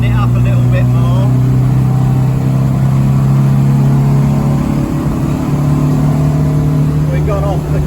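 An Austin A30 engine drones and climbs in pitch as the little car accelerates along the M23 motorway, a steady loud in-car hum with a voice speaking over it.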